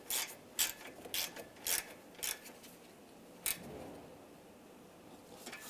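Ratchet clicking as a bolt is tightened on the A/C condenser of a 2014-2019 Toyota Corolla: several short, crisp bursts of pawl clicks in quick succession, then a pause and a final lone burst, close and fairly quiet.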